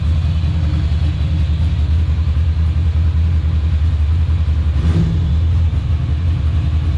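A Ducati Monster motorcycle engine runs steadily nearby with a loud, constant low rumble, one small rise in pitch briefly partway through, and no talk over it.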